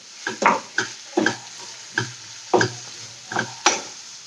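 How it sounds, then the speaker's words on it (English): Tomato mixture for an egg and tomato bake cooks in a large pan on medium heat, stirred in about ten quick, evenly spaced scraping strokes with a faint sizzle, close and clear with no talking. "I'm just going to cook this out for a few more minutes, turn it up onto a medium heat"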